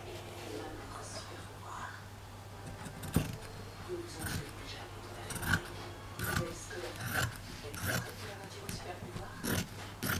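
Scissors snip through fabric in a run of irregular crisp cuts, close and fairly quiet over a low steady hum, with faint murmured speech now and then.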